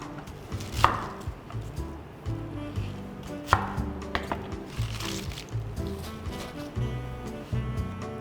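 A knife chops cabbage into 2 cm pieces on a board for a cabbage and melon water kimchi, with a few sharp, close thuds spread over a low background clatter.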